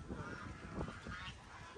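Geese at a farm market in Longkou, Shandong give a few scattered honks at moderate distance over a low, busy background, with no speech.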